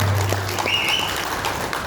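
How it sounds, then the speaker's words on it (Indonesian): A crowd claps steadily and fairly loudly, a continuous patter of hands with a brief whistle-like tone rising over it. "Tepuk tangan untuk kita semua."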